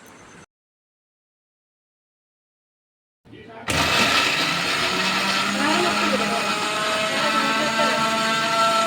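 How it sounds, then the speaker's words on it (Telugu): Kitchen mixer grinder blending cut onions into paste starts abruptly after a short silence, a loud whirring motor roar with grinding churn that holds steady to the end. "కొన్ని ఆనియన్స్ తీసుకొని వాటిని కూడా కట్ చేసుకొని వాటిని కూడా మిక్సీ పట్టుకోవాలి"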